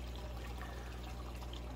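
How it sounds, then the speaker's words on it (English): Water pours out of an AQQA electric aquarium gravel cleaner in a steady close stream, a continuous splashing trickle with no talk. "if you guys can see the water flowing out from here"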